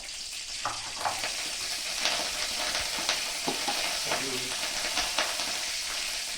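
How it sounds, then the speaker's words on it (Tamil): Mustard seeds fry in hot oil for a radish fry, giving a steady sizzling hiss with scattered small crackles and pops, close and moderately loud, with no talking. "கடுகு ஓட்டுவோம்"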